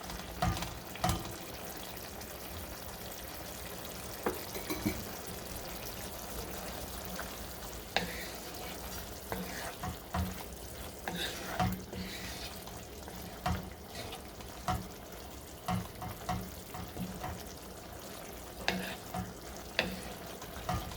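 Flat beans and potatoes in mustard paste cook over a low flame with a soft continuous sizzle, punctuated by frequent light clicks and scrapes of stirring, heard close and fairly quiet with no talking.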